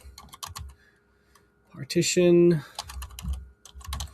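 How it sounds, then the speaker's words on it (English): Computer keyboard typing in short clustered bursts, with a person speaking before and after the keystrokes. "We're going to type in"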